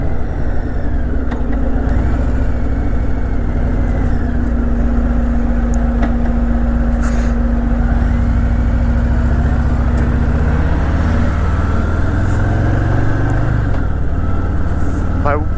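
A 2023 Harley-Davidson Fat Boy 114 Anniversary Edition idles at a stop with a deep, steady, loping rumble throughout, while a rider talks over it.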